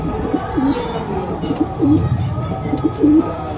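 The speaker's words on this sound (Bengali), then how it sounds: "খুব সুন্দর পায়রা" Punjabi Malwai pigeons coo close by in short, repeated throaty phrases, several calls in a few seconds with faint background noise.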